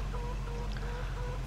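Chickens cluck softly in a Farming Simulator 22 farmyard, short repeated calls drifting over a steady low hum, fairly faint and with no talking.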